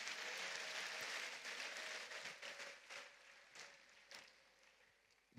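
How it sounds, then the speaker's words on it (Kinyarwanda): A church congregation applauds during a worship gathering, steady broadband clapping that starts full and gradually thins and fades over several seconds. "reka twongere nanone Imana amashyi nanone tuyishimire"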